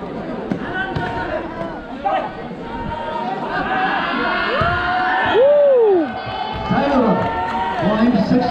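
Crowd chatter and cheering rise around an outdoor volleyball tournament in Darjeeling, with a steady murmur of spectators, occasional whoops and a loud swell near the middle, mixed with nearby voices talking.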